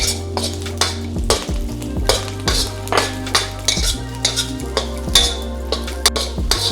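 Chinese sausage frying in a pan for fried rice: a constant sizzle broken by rhythmic scrapes and clinks of a utensil stirring against the pan, with music playing softly underneath and no talking.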